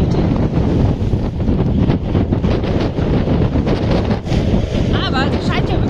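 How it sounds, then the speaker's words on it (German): Strong wind gusts at Cuxhaven harbour roar steadily and loudly, buffeting the microphone with a constant rushing noise and a faint tonal whistle near the end. "Oh Mann, ist das ein Wind heute."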